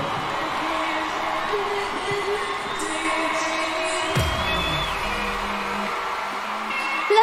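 A concert crowd in New York cheers and shouts loudly and continuously for the show, with live music and amplified tones running underneath and a louder burst near the end.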